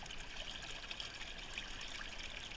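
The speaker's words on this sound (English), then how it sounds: "Quite a bit of water flow here." Water flows through a gold sluice box outdoors, a steady close trickling and rushing sound that runs continuously with no voices over it.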